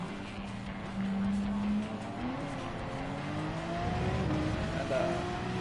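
A Gran Turismo 7 race car braking hard into a hairpin, its engine note stepping down through gear changes with a faint tire squeal, steady and close.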